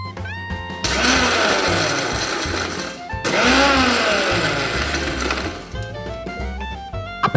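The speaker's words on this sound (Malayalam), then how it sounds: "ഇതിൽ നമുക്ക് ഒരു പാക്കറ്റ് ബിസ്ക്കറ്റ് മിക്സിയിലിട്ട് നല്ലപോലെ പൊടിച്ചെടുക്കാം" A kitchen mixer grinder grinds a packet of Oreo biscuits into powder in loud, whirring motor bursts. Two long runs are split by a short pause, and the motor winds down to quiet near the end.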